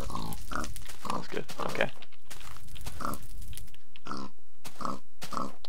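A Minecraft pig burning in fire grunts and oinks repeatedly in short bursts, loud and close, with someone briefly talking over it.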